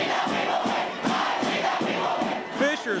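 Tiger football fans at a Fishers high school game on a Friday night roar as a dense, sustained crowd, with cheers swelling in waves and a few shouts rising near the end.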